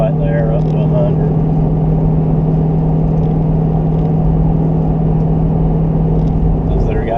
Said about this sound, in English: just did a little fourth gear pull right there up to 100